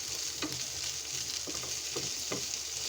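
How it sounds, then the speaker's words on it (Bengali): Garlic and onion fry in a pan with salt and dried chillies, a steady close sizzle running throughout with a few soft stirring scrapes and no voices. "রসুন পেঁয়াজটাকে ভাজা ভাজা করছি"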